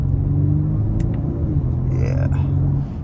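A 2023 Audi A5 Sportback S-Line 45 on a test drive, with a steady, close engine drone and low rumble that carries throughout, rising slightly in pitch partway through, and a voice briefly talking over it.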